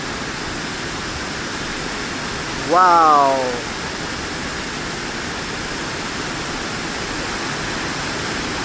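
Bridal Falls on Kennon Road pours in a constant, even roar of falling water that fills the whole scene, with a person briefly exclaiming near the middle.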